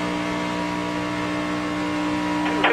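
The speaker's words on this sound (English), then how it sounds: "Let's go on board with Justin Allgaier" Onboard a NASCAR stock car at the finish of the 2010 Aaron's 312: a steady, loud, high-pitched engine drone held flat out, with a short rising whine near the end.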